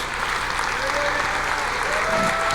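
Church congregation clapping steadily and loudly in worship, a continuous dense wash of applause with a voice faintly under it.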